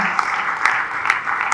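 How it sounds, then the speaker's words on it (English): A summit audience applauds to honour an invited guest, a short burst of dense, even clapping that holds steady at moderate loudness, with a few sharper claps standing out. "A resounding applause as we specially recognize Dr. Chinemelu Eze."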